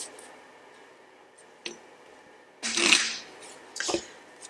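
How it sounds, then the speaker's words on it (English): Rider-Waite tarot cards shuffled by hand, a faint soft rustle followed by a sharp tap, then a louder riffling burst and a second brief flutter, close and quiet overall. "I'll be shuffling these out until the first card flips or falls"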